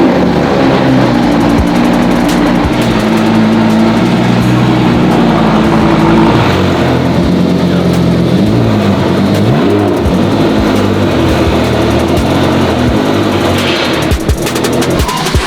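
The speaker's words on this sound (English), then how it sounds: "We'll fire the Squadra Corsa up. This thing's a little on the noisy side." A Ferrari Squadra Corsa, a noisy high-performance car, runs inside a shop with a very loud, continuous engine roar and several rising and falling revs, close and dominant throughout, with no talk.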